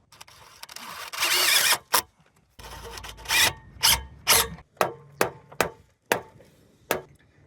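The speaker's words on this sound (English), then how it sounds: "Now we're going to catch it with a couple stainless steel screws." A power driver sets stainless steel screws into copper chimney flashing on a slate roof, with a longer whirring run followed by a series of short, sharp, evenly spaced bursts close by.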